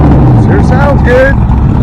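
A Chevrolet Camaro engine runs at an outdoor car show, a brief loud low rumble with voices talking over it.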